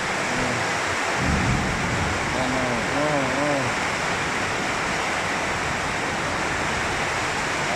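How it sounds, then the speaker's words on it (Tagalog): Heavy rain pours down in a dense, steady broadband hiss that stays loud the whole time, with a voice talking briefly over it near the start. "Ayan ang lakas ng ulan. Buhos talaga yan."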